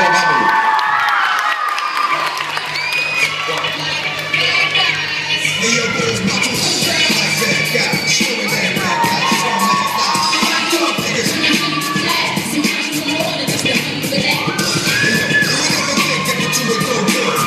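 Audience at a solo dance tournament in Ursynów cheers and applauds loudly and continuously for debut dancers, with shouts and whoops rising over a steady crowd roar and some voices talking in the mix.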